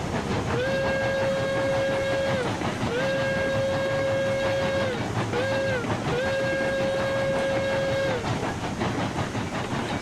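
A railroad train horn sounds the standard crossing signal, two long blasts, one short, one long, loud and close over a constant rumbling rail background with no speech.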